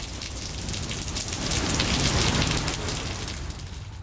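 Steady rain pouring down in Delhi NCR during a Sunday-night downpour, a dense continuous hiss of drops on surfaces that swells a little midway, with no voices.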